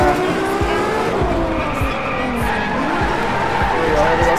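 A Ferrari LaFerrari sliding sideways in the DRIVECLUB racing game, its engine roaring loud and steady with tire squeal running under it the whole time.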